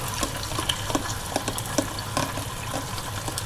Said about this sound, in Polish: Nasz kurczaczek się smaży